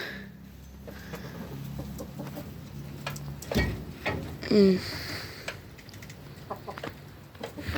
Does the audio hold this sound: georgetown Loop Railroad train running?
no